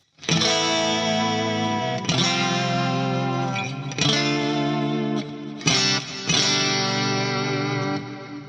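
Sustained, heavily processed electric guitar chords played through a Fractal FM9 amp modeler ring out in long, dense swells with a few sharp re-strikes, loud and close with no voices.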